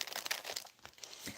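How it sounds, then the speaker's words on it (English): Tarot cards being shuffled by hand, a quick run of papery crinkling riffles and slaps close to the microphone, with no talking. "I'll just like to shuffle those cards"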